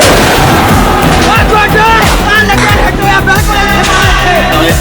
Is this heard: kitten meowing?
no